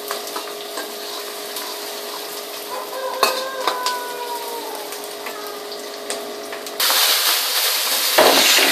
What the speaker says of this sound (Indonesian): Sambil diaduk-aduk ya agar tidak gosong di bawahnya.